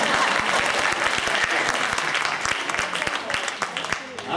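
An audience breaks into lively applause, with many hands clapping in quick, dense, irregular bursts. The clapping is loud at first and thins slightly toward the end.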